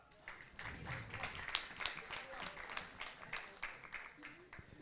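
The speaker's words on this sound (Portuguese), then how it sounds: "Uma salva de palmas." Crowd applause, a steady wash of many hands clapping at moderate distance, with a few sharper claps standing out and faint murmuring underneath.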